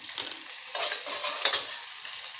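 Cut green chili drops into hot oil and sizzles sharply, a close, bright crackle that swells after the first moments and holds steady to the end.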